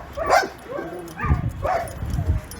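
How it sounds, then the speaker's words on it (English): Dogs bark close by in a run of three or four sharp barks with brief yelps between them, loud and clear against a low background hum. "I have enough dog problems already without these things barking at me right now"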